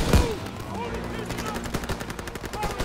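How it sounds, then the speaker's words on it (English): Rapid gunfire from the Call of Duty: WWII shooter game, with a loud opening shot followed by sharp repeated bursts over a busy layer of battle noise. "I just shot Pearson right in the back."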